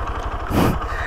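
A motorcycle engine idles close by with a rapid, even putter, briefly swelling louder in a short rev before settling back.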